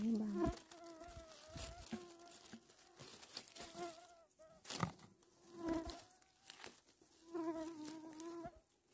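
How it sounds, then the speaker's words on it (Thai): Swarming mosquitoes buzzing loudly like bees around someone out foraging for mushrooms, with high droning whines rising and fading close to the microphone and some faint rustling between bursts. "เสียงยุงเหมือนผึ้งเลย"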